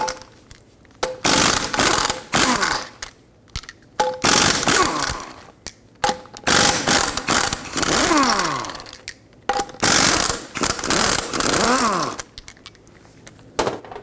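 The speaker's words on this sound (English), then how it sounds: "use a 21 millimeter and remove all five of the lug nuts." A power tool with a 21 millimeter socket spins lug nuts off a 1995-2004 Toyota Tacoma rear wheel, loud rattling bursts of impact hammering with rising whines as the nuts spin free, repeated in several bouts with short pauses between.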